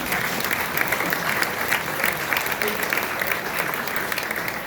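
An audience at a campus talk applauds, a dense, steady wash of clapping from many hands filling the room without letup for several seconds.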